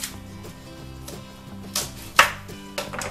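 An onion is chopped with a knife on a cutting board, giving a steady run of close, crisp blade taps with a few sharper, louder strikes near the end and no talking.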